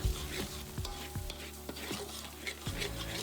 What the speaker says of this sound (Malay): Teruskan kacau sehingga sebati.